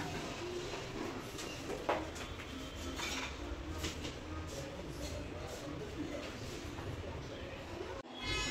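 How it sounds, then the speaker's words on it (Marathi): Fish coated in semolina frying in a pan in a home kitchen, a steady hiss and sizzle running throughout beneath occasional clinks of utensils, with people talking nearby. "इकडे बघा मासे तळती आहे"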